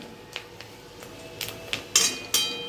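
Fish roe fritters frying in a pan are flipped over, with a series of sharp metallic clinks and scrapes of a utensil against the pan, growing louder toward the end, no voices.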